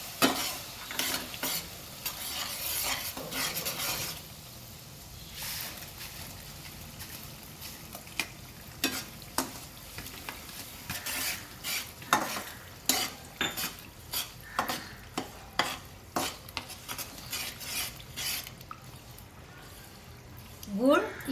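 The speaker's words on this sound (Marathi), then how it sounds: "तूप गरम झालेले आहे, त्याच्यात आपण गूळ टाकूया।" Jaggery stirred into hot ghee in a pan for fenugreek dry-fruit laddoos, a run of scraping, clinking spoon strokes against the pan over a soft sizzle, steady and close, with brief pauses between strokes.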